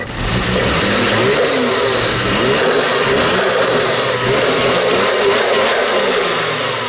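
Car engine running smoothly after new spark plugs were fitted, a steady loud close drone with a gentle rise and fall in revs and no pauses.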